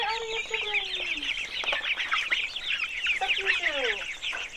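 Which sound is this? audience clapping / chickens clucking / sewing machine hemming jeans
chickens clucking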